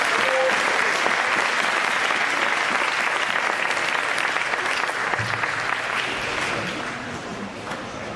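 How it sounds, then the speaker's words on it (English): An audience at a school winter and spring sports awards ceremony applauds, a dense, loud, continuous clapping that holds for the whole stretch and eases slightly near the end. "give these guys another round of applause"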